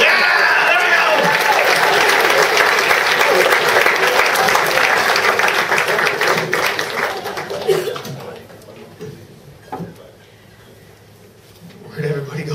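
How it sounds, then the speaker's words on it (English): Loud, dense audience clapping mixed with cheers and some laughter at a live show, sustained for several seconds before thinning out and fading, with a few scattered claps and voices returning near the end. "Don't stop clapping."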